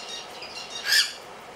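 A cockatiel gives a single short, sharp squawk near the middle of a quiet moment, fairly close and alone.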